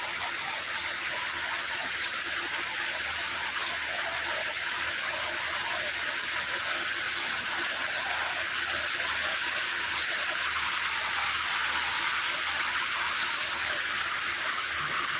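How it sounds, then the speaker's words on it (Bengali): Heavy rain pours down in Malaysia as a steady, loud, unbroken rushing hiss of water that holds even for the whole stretch, with no voices over it. "কেমন বৃষ্টি হয়েছে তাহলে বোঝেন"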